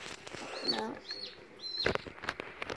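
A young chick gives several thin, high chirps, three or four short calls spaced about half a second apart, close by, with people talking softly around it.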